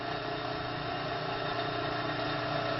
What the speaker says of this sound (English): And now you heard the motor start